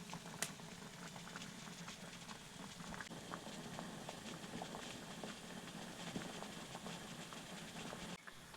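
Syrup made with nolen gur simmers with sweets in a pan, a quiet continuous bubbling and burbling with scattered soft pops and ticks throughout.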